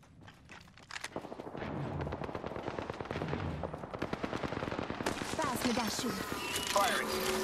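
Automatic gunfire in the video game Apex Legends, a rapid rattling burst that runs almost continuously after the first second. Bright metallic clinks and electronic effects join in near the end, and brief voice lines sit under the shooting.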